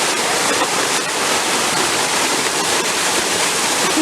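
The waterfall at Waterfall Gully in the Adelaide Hills roars with a loud, steady broadband rush of water, close by and continuous, with no voices.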